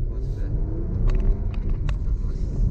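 A Porsche Panamera hybrid drives along with a low, smooth engine and road rumble that holds steady throughout, and a few faint clicks and rattles sit above it inside the cabin.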